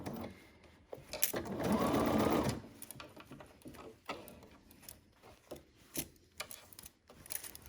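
Sewing machine stitching the ruffle neck of a Kaki top, one loud steady burst of running stitches lasting about a second, followed by quieter clicks and handling noises close by.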